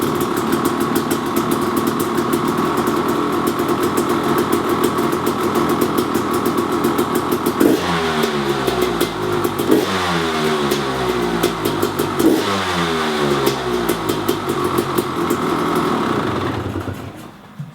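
A KTM 300 two-stroke dirt bike fitted with a Lectron carburetor fires up and holds a loud, steady buzzing idle up close, with a few throttle blips partway through before the engine cuts off at the end.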